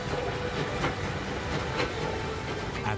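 A train rolling along the line through a narrow rock cutting in Australia, a continuous dense rumble and hiss with rhythmic wheel clicks on the rails at regular intervals, no voices.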